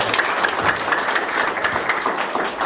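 A church congregation applauding together, dense steady clapping from many hands at moderate distance, filling the room without any speech over it.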